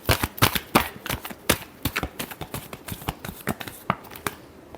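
A deck of tarot cards shuffled quickly and close by, a steady run of sharp papery slaps and riffles repeating many times in a row with no voice over them.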